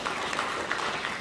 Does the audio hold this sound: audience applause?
yes